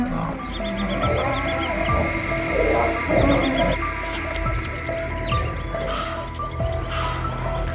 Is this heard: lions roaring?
yes